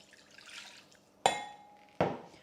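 Water poured into a food processor bowl, a soft trickle followed by two sharp glassy clinks close by, quiet and with no talking.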